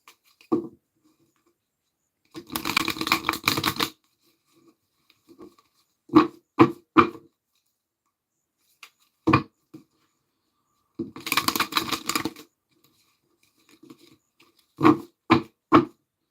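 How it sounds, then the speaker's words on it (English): Tarot cards being shuffled by hand, with two longer riffling bursts and several short sharp snaps and taps between quiet gaps, close and crisp with no talking. "All right, one more shuffle, and then we will pull it for your final message from Spirit."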